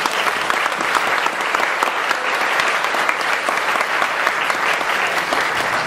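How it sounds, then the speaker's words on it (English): An audience breaks into steady, loud applause at a talk about racial disparity in New Jersey's homeless population, dense clapping holding at an even level for the whole stretch without any speech over it. "let's give Richard Rossi another round of applause."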